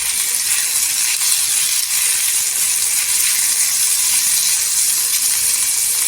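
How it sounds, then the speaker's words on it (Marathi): Thecha ingredients sautéing in hot oil give a steady, loud, bright hissing sizzle that holds unbroken throughout, close by and with no voices. "इथे तेलावर परतायचं"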